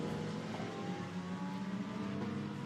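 A GT2 race car pulls out of the pit lane onto the circuit during qualifying at Barcelona, a steady mid-distance engine drone that holds fairly even throughout, with no speech.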